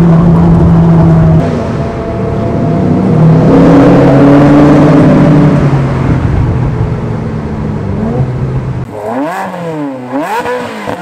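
A Ferrari 360 Modena on charity passenger rides in Orléans revs and pulls hard, its engine note climbing steadily and loudly, then rising and falling in sharp sweeps near the end, with no talk.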